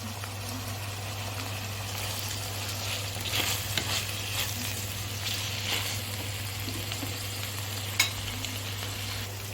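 Ginger paste with potato frying in a pan, a continuous close sizzle with scraping stirs and occasional light clinks, steady and moderately loud over a low constant hum.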